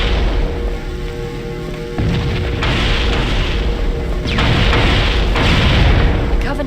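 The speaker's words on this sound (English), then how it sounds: "The Covenant are destroying the life pods." Life pods explode in the Halo video game, heavy booming blasts rolling over each other in loud, dense succession with rumbling low-end and crackling debris.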